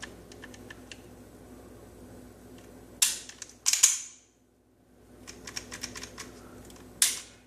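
A pistol undergoing safety function checks after cleaning: a few sharp, close metallic clicks and snaps from the slide and trigger, separated by quiet pauses, with no talk.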